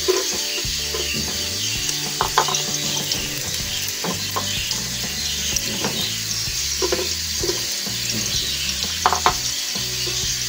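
Garlic frying in hot oil sizzles steadily and densely, with intermittent scrapes and clinks of a utensil stirring the pan, close and continuous with no talking.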